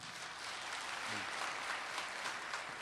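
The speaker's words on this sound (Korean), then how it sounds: "다 그럼 힘찬 박수 좀 한번 쳐주십시오" Applause from metalworkers' union delegates at a union delegates' convention, a steady, fairly distant wash of clapping lasting the whole stretch with no voices over it.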